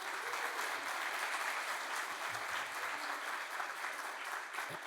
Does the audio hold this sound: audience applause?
yes